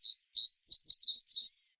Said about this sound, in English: That song was quite slow, just 1 or 2 notes per second, what you might call walking pace.